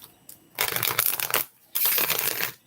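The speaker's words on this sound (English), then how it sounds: "Let me shuffle this." A deck of tarot cards being shuffled by hand, two loud, close bursts of riffling and sliding with a short pause between them.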